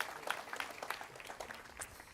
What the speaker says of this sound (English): One more round of applause for our 8th graders.